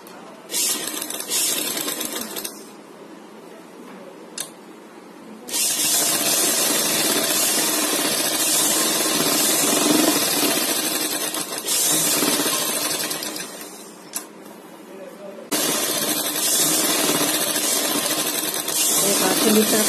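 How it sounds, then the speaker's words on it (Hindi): Upper stitching on a poncha runs through a sewing machine in long, loud continuous bursts, broken by brief stops. "अब ऊपर की सिलाई भरेंगे"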